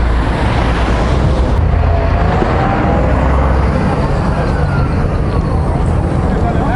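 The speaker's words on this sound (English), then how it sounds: "well here are the buses" Buses and road traffic at a bus station make a loud, dense, continuous roar of engines and street noise, with people talking close by.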